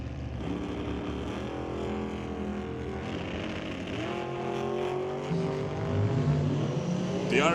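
Drag race with an undercover dragster chasing a Rad Torque Systems Nova: a sustained roar of racing engines that rises and shifts in pitch, heard from a distance and building louder toward the end.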